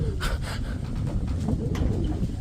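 Pigeons coo nearby, with soft low throaty calls and fluttering sounds repeating over a rumbling, noisy outdoor background.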